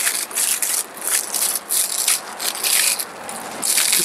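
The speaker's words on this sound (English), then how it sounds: "They've been wrapped up in this polythene. And carefully unwrap them." Polythene wrapping is peeled off bare root shrubs by hand, giving repeated close crinkling and rustling bursts with brief pauses between them and no talking.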